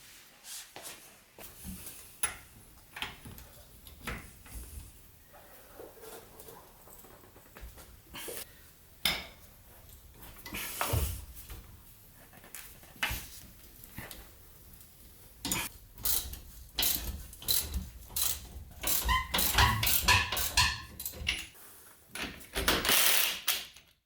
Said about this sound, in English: grab yourself a 3/4 inch socket or a 3/4 inch end wrench and get ready to put some effort in. So let's unbolt it.